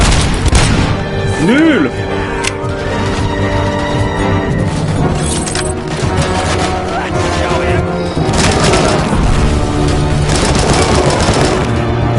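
Gunfire and booming shots in RoboCop: Rogue City run almost nonstop and loud across the whole stretch, dense bursts and thumps layered under a man's excited speech.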